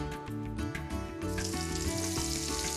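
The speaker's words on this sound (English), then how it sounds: "coating everything with that beautiful turmeric, and then I'm going to deep fry it" Turmeric-coated food deep frying in hot oil, a continuous dense sizzle with bubbling crackle that swells louder partway through, heard up close with no talking.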